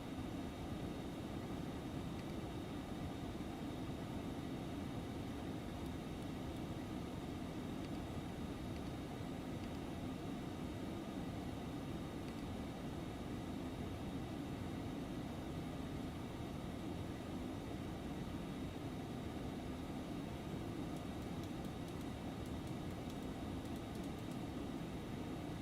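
An Aerobask Phenom 300 business jet in X-Plane 11 holds a steady, even engine drone and cabin hiss through the climb, broadband and unbroken, with no voices.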